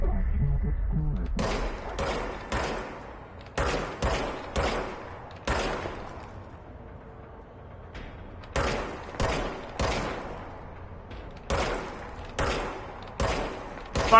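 Gunfire from a handgun in the video game Control: sharp, loud single shots in clustered bursts of two to four, separated by short quiet gaps, with a low rumble under the opening.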